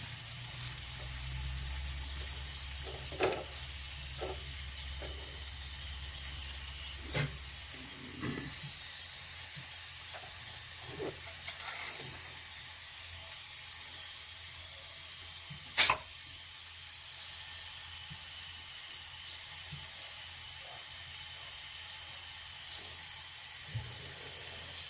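A jowar roti cooks on a hot griddle after being brushed with water, giving a faint, steady steamy hiss broken by a few small pops and crackles.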